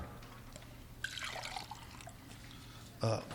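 Water is poured into a glass, a bright trickling splash lasting about two seconds over a low steady hum, followed by a brief louder clunk of the glass being set down.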